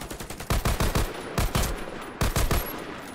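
Rapid bursts of gunfire in the Warface online shooter, loud and close, with several clustered volleys of repeated shots and short gaps between them.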